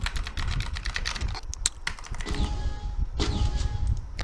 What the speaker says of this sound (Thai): ผมก็จะใช้คีย์บอร์ดเทพของผมนะ เสียงอาจจะดังนิดนึง